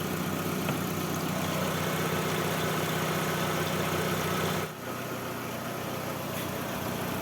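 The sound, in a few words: car engine idling while flushing the radiator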